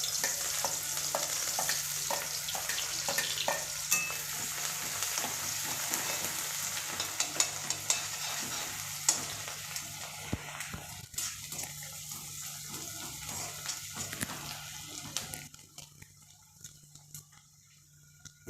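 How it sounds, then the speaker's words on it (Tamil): Chopped onions fry in hot oil in a kadai. A steady crackling sizzle runs under occasional clinks of stirring and then drops away sharply near the end. "இப்போ இந்த கட் பண்ணி வச்சுருக்கிற வெங்காயத்தை போட்டுடலாம்."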